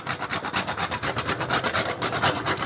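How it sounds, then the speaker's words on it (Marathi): Half a nutmeg rubbed against a grater while making dhondas, a Konkani cake, giving a steady rhythmic rasping scrape of quick repeated strokes close by, with no talk. "हे जायफळ मी थोडंसं अर्धं जायफळ मी किसून घालणार आहे"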